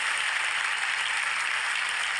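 A continuous wash of applause, even and unbroken, like a studio audience clapping at a steady level.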